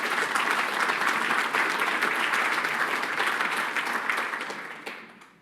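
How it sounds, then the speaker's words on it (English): An audience at a cybersecurity awards ceremony claps for an honoree, a dense, even round of applause heard at moderate distance that holds steady and then tapers off at the end. "So let's give him a round of applause here."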